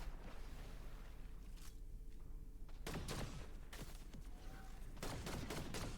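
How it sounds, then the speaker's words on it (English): Bursts of video game gunfire, a loud rapid volley of shots erupting partway through and continuing in sharp cracks over a constant background hum. "I think I start getting shot around here."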